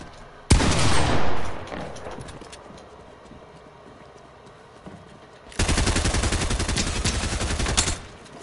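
Submachine gun fire in a video game: a sharp burst that decays into echo, then after a quiet gap a sustained, rapid stream of loud shots lasting a few seconds.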